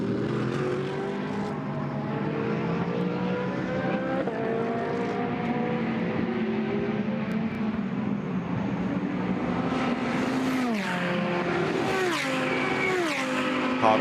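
A Ferrari GT race car engine roars steadily at high revs, rising and falling in pitch as it shifts and passes close by, during a Blancpain GT Sports Club race at Paul Ricard, 2019.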